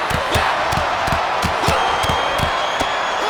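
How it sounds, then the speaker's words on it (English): In WWE 2K26 wrestling gameplay, a steady arena crowd roars and cheers throughout while sharp, regular impact thuds land roughly every third of a second, suggesting blows or slams. "The fists are flying and this crowd is hot."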